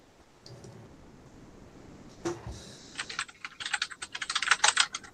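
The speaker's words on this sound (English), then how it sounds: "while Astrocraft is typing about that" Keys clatter on a computer keyboard during an online meeting. The typing is faint at first, then grows into quick, uneven bursts of clicks, close by, with no talking.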